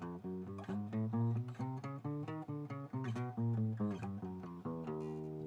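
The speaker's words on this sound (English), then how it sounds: "the 12-tone cycle, which 12 tones just sounds like this." A twelve-tone chromatic scale played on a harmonic pitched instrument, rising note by note and then descending, in quick even steps ending on a held tone, clear and close with no voices.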